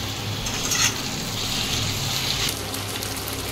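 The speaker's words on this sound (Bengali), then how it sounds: "পেঁয়াজগুলো এরকম লাল লাল করে ভাজা হয়ে আসলে এর মধ্যে ম্যারিনেট করা চিকেনটা দিয়ে নেব, দিয়ে কষিয়ে নেব।" Marinated chicken fries with browned onions in a pan, a loud, close hiss and crackle with stirring scrapes that swell twice, around the first second and again near two and a half seconds, with no talking.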